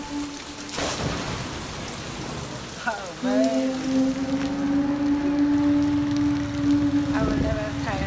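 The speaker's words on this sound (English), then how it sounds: "I will never tire of rain." Rain falls in Tuvalu as a dense, constant wash of patter that runs throughout. Partway through, a sustained tonal hum rises and holds over the downpour.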